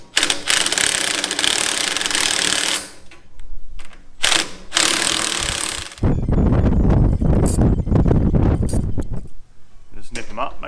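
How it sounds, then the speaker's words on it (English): A ratchet clicks in rapid bursts while nylon lock nuts are tightened on a trailer hitch, loud and close, with pauses between runs and a rougher stretch of cranking near the end. "Just nip them up, make sure they're nice and tight."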